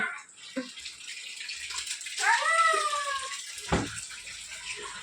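A cat lets out a drawn-out meow midway, with faint background noise and a brief thump toward the end.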